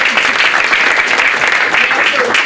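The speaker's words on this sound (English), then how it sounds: "So a big round of applause for Erik and Civico." Audience applause at a launch party in a spectacular building, a dense, loud, steady roar of many hands clapping that fills the whole stretch, with voices mixed in.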